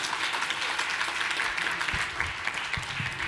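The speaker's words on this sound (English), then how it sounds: "Let's give her a round of applause." Audience applauding at a business keynote: dense, steady clapping from a large room that holds at an even level for the whole stretch, with no voices coming through.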